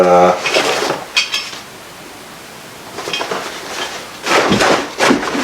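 Metal clanks and rattles come from an emergency cook stove and meal kit being handled, in loud irregular bursts separated by quieter rustling.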